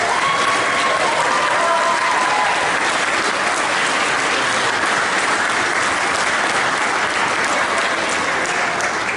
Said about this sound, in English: So please, a round of applause for our volunteers.